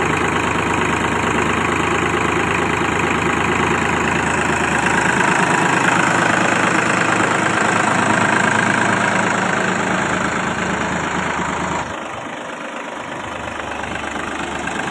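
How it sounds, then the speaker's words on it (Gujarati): A tractor engine idles steadily up close, a loud, continuous rumbling drone. Near the end the tone drops and thins slightly, as if the throttle eases. "તો હાલો મિત્રો આપણે આજે ટ્રેક્ટરને રિવર્સ મારવાનું છે"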